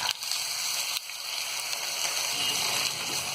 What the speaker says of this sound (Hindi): एक पैन में हम 1 चम्मच के करीब तेल डालेंगे और जब यहाँ तेल हल्का सा गर्म हो जाएगा, इसके बाद हम डाल देंगे ये कलेजी।